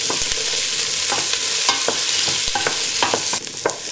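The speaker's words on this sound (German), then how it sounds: "könnt ihr die Kartoffelstückchen dazu geben und noch kurz mit anbraten" Potato pieces and onions fry and sizzle in a pot, with a steady hiss broken by sharp clinks and scrapes as they are stirred, close up and fairly loud, with no voices.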